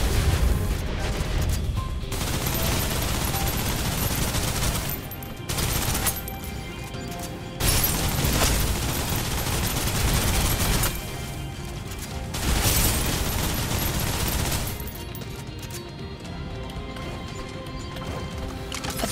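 Bursts of gunfire in the video game Snowbreak, loud volleys in several separate stretches with brief pauses between, heavy booms and crashes mixed in.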